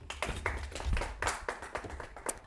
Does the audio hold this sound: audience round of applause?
yes